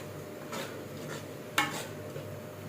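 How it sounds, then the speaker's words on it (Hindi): Vegetables being stirred and fried in a pot for a salan, with a few soft scraping strokes and one sharper metallic clink of the spoon over a faint background hiss. "सब्ज़ी मैंने डाल ली, अब इसको भूनते हैं अच्छी तरीके से"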